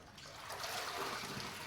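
Water trickles and splashes steadily as a soapy cloth is rinsed and wrung out by hand, a close, continuous dribble with no talking.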